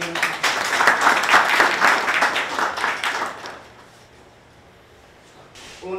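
Applause for two guests at a training event in Rajshahi, a burst of many hands clapping that swells for about three seconds, then fades into quiet room tone.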